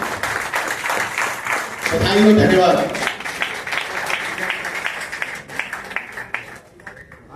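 Audience applause at an annual meeting of the Friends of Tribals Society in Jamshedpur: a spell of crowd clapping that swells and thins, with a voice speaking briefly over it partway through.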